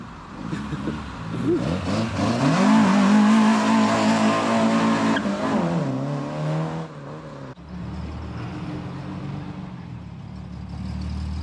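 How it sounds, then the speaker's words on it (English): A car at a car meet does a burnout: the engine revs hard and its tyres squeal and skid loudly for several seconds, then the roar drops back to a rumbling idle. "Do a burnout!"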